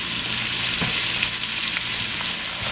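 Chopped onion fries with sausage and peppers in a pan, a close, constant crackling sizzle with faint stirring taps.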